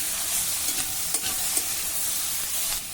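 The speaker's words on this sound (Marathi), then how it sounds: "मध्यम आचेवर आता हे जरा परतायचं आहे।" Onion, garlic, capsicum and whole spices such as black pepper, cardamom and cinnamon sauté in a pan over medium heat, a soft steady sizzle with faint stirring taps, close and alone.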